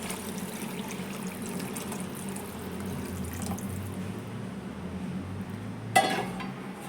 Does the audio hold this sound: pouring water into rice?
yes